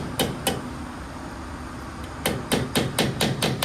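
An impact wrench loosens brake fasteners in a repair shop with sharp, loud hammering bursts, two early hits, a pause, then a rapid run of rattling impacts close by.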